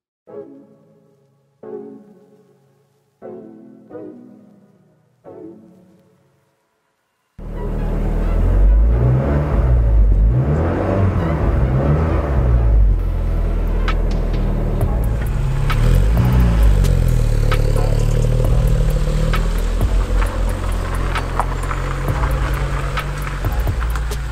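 Opel Astra GSI 16v with a 16-valve engine, heard from inside while driving: the engine drones steadily and rises and falls through the gears, after a few short knocks at the start.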